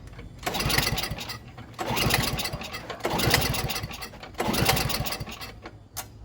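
A snowblower's small engine with the choke on and the throttle at half, being pulled over in repeated bursts: four or five rough, loud cranking runs of a second or so each, separated by brief pauses, with no steady idle following.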